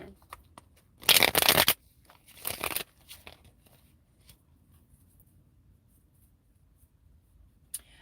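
Two quick riffling bursts of cards being shuffled close by, a longer one then a shorter one, followed by quiet with a faint tap.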